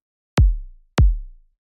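Synthesized impact sound from a default kick drum patch for a user interface palette: two identical deep, punchy thumps with quickly decaying low tails, evenly spaced and isolated against silence.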